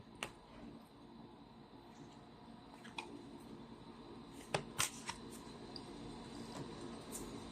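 Tarot cards being shuffled, a soft steady rustle of sliding cardstock with a few sharper snaps and flicks near the middle, close and quiet with no talking.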